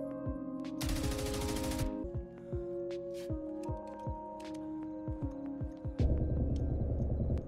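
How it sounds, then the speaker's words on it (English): Video game gunfire in Zero Hour: scattered single shots and short bursts, a dense rattling volley near the start, then a lower rumbling burst at the end, fairly near and moderately loud, no voices. "Woo, bullets flying around"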